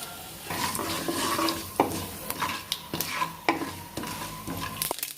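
Spices, including fenugreek, crackle and sizzle steadily in hot oil for a bitter gourd kuzhambu, with a spoon stirring and scraping against the pan now and then.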